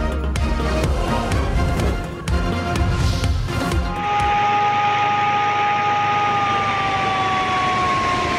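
Warning siren sounded to alert residents around Rawal Dam in Islamabad as its spillways open, a loud sustained wailing tone holding steady over a mix of noise and broadband clatter in the first half.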